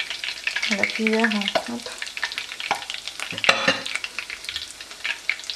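Pieces of batter-coated seafood for fritto misto deep-fry in hot oil with a bubbling, crackling sizzle, while a spoon clinks against the pot and a voice speaks briefly over it.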